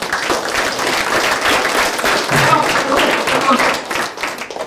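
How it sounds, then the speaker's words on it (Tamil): A large gathering of students at a cultural training camp in Vedapuri, Theni applauds loudly, with a thick, continuous wash of clapping that swells and rolls on for several seconds and has a faint murmur of voices underneath. "அவர்களுக்கு முதல் பெரிய கரகோஷம் நீங்க செய்யணும்"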